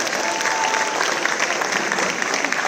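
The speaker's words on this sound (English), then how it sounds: "Give yourselves a round of applause." Concert audience applauding at the end of a music show, a dense, steady wash of many clapping hands filling the hall at full strength throughout, with faint voices mixed into the crowd.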